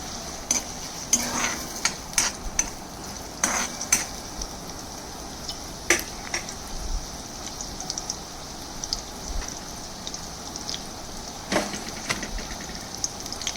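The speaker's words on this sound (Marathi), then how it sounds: "त्याच्यामध्ये हा कांदा टाकलेला आहे कढईमध्ये." A small chopped onion fries in a little oil in a kadhai, giving a steady soft sizzle broken by sharp clinks and scrapes of stirring throughout.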